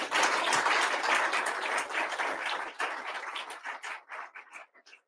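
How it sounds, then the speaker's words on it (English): Audience applause after a senior Army Reserve general's talk at an indoor coffee-series event, a sustained burst of clapping that thins out and fades into scattered claps toward the end. "Let's give him a round of applause."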